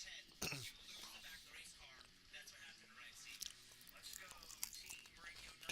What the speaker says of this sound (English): Am I chewing in your ear bothering you?